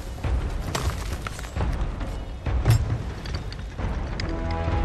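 Deep booms of ship cannons firing in Sea of Thieves, several heavy blasts spaced a second or so apart over rumbling sea and game noise, loud and close.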